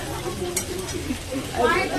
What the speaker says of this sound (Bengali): পাঁপড় ভাজা, তার সাথে একটু আলু ভাজা।